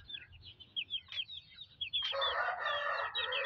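Hens cluck in short bursts, then an Indian rooster crows loudly and at length, close by over a low rumble of background noise.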